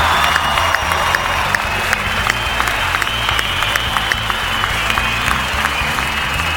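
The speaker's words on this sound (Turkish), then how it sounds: "Alkışlarla uğurluyoruz yarışmacılarımızı." A studio audience at the O Ses Türkiye singing contest semi-final applauds steadily and loudly throughout, a dense continuous wash of clapping with faint cheering underneath.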